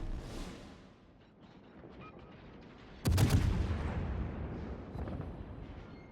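Naval gunfire salvos boom in World of Warships: a distant rumble fades, then a sudden sharp blast erupts around the middle and rolls into a sustained roar of further shots, all fairly faint overall.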